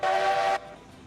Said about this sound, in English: Like playing with the whistle.